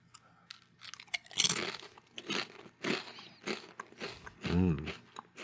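A crunchy snack eaten close to the microphone in an ASMR style, with a bag crinkle followed by a series of loud, crisp bites and chews in uneven bursts, and no talking.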